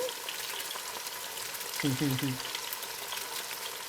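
Onion frying in a pan for bread soup gives a steady broadband sizzle throughout, with a brief voice in the middle over the hiss.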